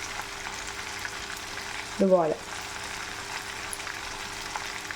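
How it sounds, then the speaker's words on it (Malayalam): Chicken pieces fry in hot oil for Kerala chicken pickle, a steady close sizzle that continues throughout while a voice briefly says a word in the middle. "3 പ്രാവശ്യമായിട്ടാണ് ഞാനത് വറുത്ത് കോരിയേക്കുന്നത്."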